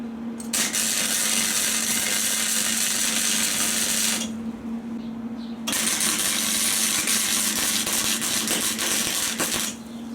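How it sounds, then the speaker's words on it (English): Welding a part on a postie bike, a loud continuous crackling buzz with a steady hum that runs for about four seconds, pauses briefly, then resumes for several more seconds, with no talking. "Alright, let's get into welding this up."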